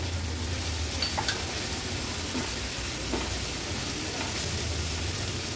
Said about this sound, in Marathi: हळद आणि मीठ घातल्यावर हाय फ्लेमवर छान ह्या भाज्या आपल्याला परतून घ्यायच्या आहेत